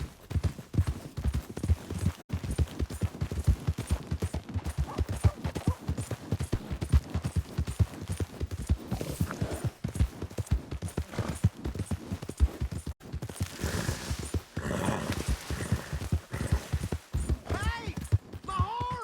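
Horse hooves clip-clop at a brisk, steady pace throughout a Red Dead Redemption 2 scene, close and rhythmic, with occasional voices and other game sounds mixed in.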